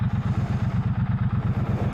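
A Triumph Bobber motorcycle engine idles close by with a loud, steady, lumpy low-pitched thump, pulsing in a regular rapid rhythm throughout, with no talking.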